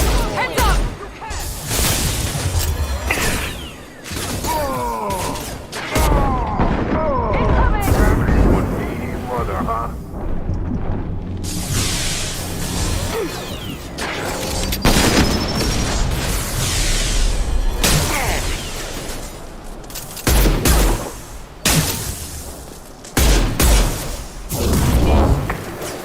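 Combat in the video game Mass Effect 2, with heavy weapon fire, booming blasts and whooshes crowding a dense, loud battle mix for the whole stretch, under frequent shouted voices.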